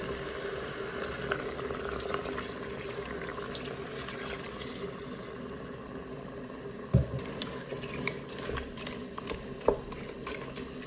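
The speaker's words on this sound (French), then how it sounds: "je vais ajouter 400 ml d'eau chaude" Hot water pours into a Cookeo electric pressure cooker pot holding spaghetti bolognese, a faint, steady liquid rush with a few soft knocks near the end.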